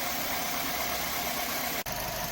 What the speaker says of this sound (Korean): 포르테도 엔진 오일 교환을 위해 예열하고요